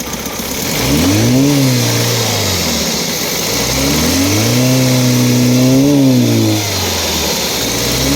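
A used car's engine revs up and down twice in long, loud swells while the car stands still, its note wavering with uneven running from a suspected low idle or misfire fault, with no talk over it.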